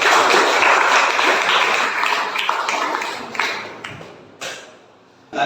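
A gathering claps together in a loud, dense burst that fades and breaks up into a few scattered claps and taps toward the end.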